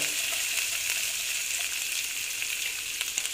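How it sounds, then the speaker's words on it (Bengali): Onions frying in a hot pan for an oats breakfast recipe, a steady close hissing sizzle with faint crackles and pops throughout, no voices. "পেঁয়াজটা দিয়ে ভেজে নিচ্ছি।"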